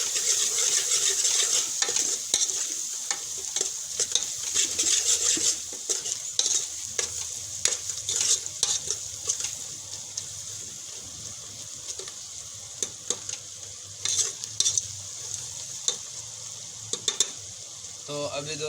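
Turmeric and red chili spices being stirred and fried in a pan for bhindi masala, giving a steady loud sizzle with frequent scraping stir strokes and occasional utensil clicks.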